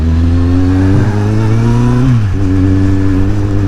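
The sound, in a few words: motorcycle riding and revving on road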